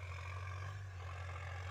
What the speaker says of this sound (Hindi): आ रहा है ट्रैक्टर